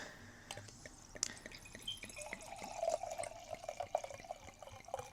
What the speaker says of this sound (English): let me go pour myself a glass